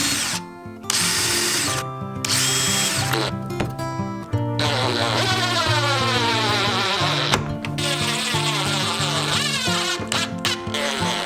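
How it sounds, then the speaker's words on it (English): A power drill with a self-centering bit whines in several loud, close bursts while driving screws into a Sprinter van door, its pitch rising and falling between short pauses. "We're gonna screw them to the door and we're using a self-centering bit to get these screws straight."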